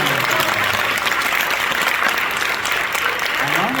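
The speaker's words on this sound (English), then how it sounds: "can you just give me a couple claps real quick?" An audience at a student award ceremony claps steadily and loudly throughout, a dense wash of applause filling the hall.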